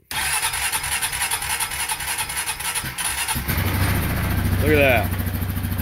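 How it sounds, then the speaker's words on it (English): Honda Rubicon ATV engine cranking and catching on a new lithium battery: a steady loud starter whir runs several seconds, then the engine fires into a rougher running note, with someone speaking briefly over it. "It actually cranked for quite a while"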